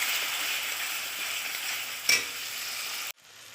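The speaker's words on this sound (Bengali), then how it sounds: "সেটা আমি একটু দিয়ে মশলাটা আবার কষিয়ে নেব।" Spice paste for tel koi fish curry sizzles steadily in oil in a pan on high heat, with a brief stirring scrape midway before the sizzle drops off abruptly near the end.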